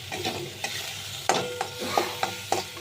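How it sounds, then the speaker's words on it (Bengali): Koi fish curry with potatoes, ginger paste and dried chillies being stirred in hot oil: a steady sizzle with several sharp spoon scrapes and clinks against the pan, close and fairly loud, no talking. "এবার আমি আবার একটু দেখুন নাড়ব"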